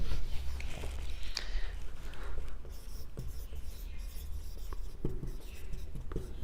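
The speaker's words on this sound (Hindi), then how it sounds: "मैं दोबारा लिख देता हूं" Chalk or marker writing on a classroom board during a lesson, repeated quick scratchy strokes and taps in irregular bursts, fairly close, with faint background noise.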